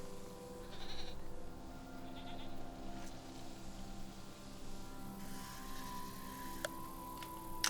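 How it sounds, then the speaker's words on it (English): Goats bleat in short bursts at a moderate distance in a video game, with a faint steady hum and occasional clicks in the background. "Oh, I see a couple of goats."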